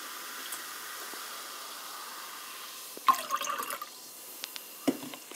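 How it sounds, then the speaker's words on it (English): Quiet room hiss, then a short burst of raspberry Bubly sparkling water pouring into a cup with fizzy splashing, followed by a few small clinks and drips. "you pour it into this cup"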